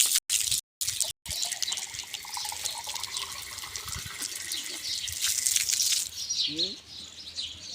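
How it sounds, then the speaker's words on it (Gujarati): Water gushes steadily from a slowly opened valve in a continuous, fairly close splashing flow. Brief gaps come near the start, and the rush rises and falls before easing toward the end. "ધીમે ધીમે વાલ ખોલો."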